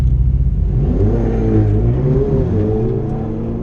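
A turbocharged Ferrari F8 revs hard and accelerates at Santa Pod, a loud close engine roar whose pitch climbs and shifts through the revs before easing slightly, with no talking.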